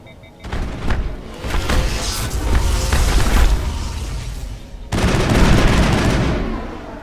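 Rifle fire from the Mass Effect video game on Eden Prime, a dense stream of loud, continuous gunfire and booming impacts that drops briefly near the five-second mark before resuming at full intensity.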